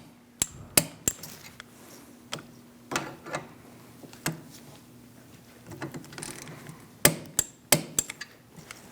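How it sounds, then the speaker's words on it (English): Working on the rear brakes of a 2000-2006 Mini Cooper, a torque wrench tightens bolts with scattered sharp metallic clicks and clacks, some in quick clusters, close up in an otherwise quiet space. "Torque these to 20 foot-pounds."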